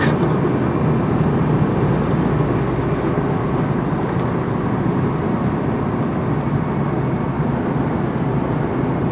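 Steady, loud interior road noise from a moving car, a continuous broadband rumble and hiss with no breaks, no voices.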